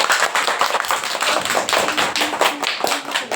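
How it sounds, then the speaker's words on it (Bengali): Schoolchildren clapping again in a classroom, a loud close round of rhythmic hand claps running throughout, briefly faltering near the end. "আরেকবার হাততালি দিয়ে দাও।"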